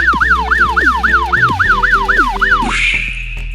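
A loud electronic siren sound effect in a Scratch game wails in rapid up-and-down sweeps, repeating about eight times before cutting off into a brief hissing tail.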